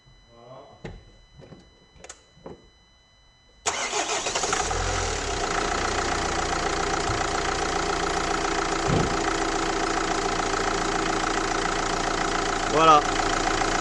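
A Renault Master 3 diesel engine cranks briefly and catches at once after a few faint clicks and a short voice, then settles into a steady, loud, rough idle with a diesel clatter that runs without a break.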